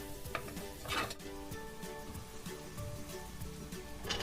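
Mutton biryani masala sautés in a pressure cooker, a faint steady sizzle with light scraping and stirring and a few soft clinks, with no voices.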